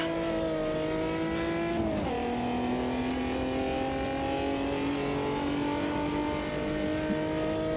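Vauxhall race car engine in Automobilista 2, a loud, steady droning tone that dips briefly at a gear change and then climbs again as it pulls through the gear.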